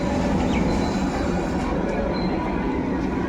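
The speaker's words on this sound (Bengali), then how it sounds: "Sealdah Lalgola Sealdah passenger Murshidabad rail station ঢুকছে" A Sealdah–Lalgola passenger train rumbles steadily into Murshidabad railway station with a dense, continuous roar of wheels on rails, loud and unbroken throughout.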